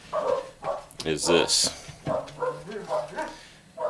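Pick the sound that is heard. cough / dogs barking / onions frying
dogs barking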